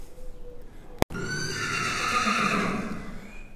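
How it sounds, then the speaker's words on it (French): Horses at a boarding stable neigh loudly and close by, a long whinny rising over steady barn noise after a sharp knock. "Alors là j'ai les chevaux qui me disent bonjour"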